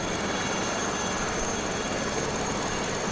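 A 500E helicopter in Microsoft Flight Simulator gives a steady, unbroken engine and rotor drone. The wash of noise stays level and dense for the whole stretch, with no talk over it.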